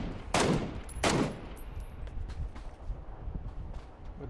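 MK 14 rifle fire in PUBG: Battlegrounds: two loud, sharp shots about half a second apart, followed by a quiet stretch with faint background noise and no talk.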